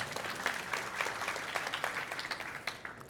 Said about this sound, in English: Let's give him a round of applause, guys.